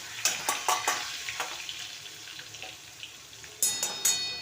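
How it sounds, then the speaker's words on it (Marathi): Garlic, ginger and green chilli frying in hot oil in a pan, a soft sizzle with sharp clinks of a spoon against the pan, close and with no talk. "लसूण आलं आणि हिरवी मिरची आता हा आम्ही याच्यामध्ये भाजून देतो"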